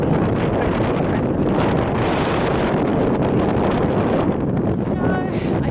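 Steady, heavy wind buffeting the microphone on the West Highland Way in rainy September weather, a constant roaring rumble with gusty texture throughout and no pauses.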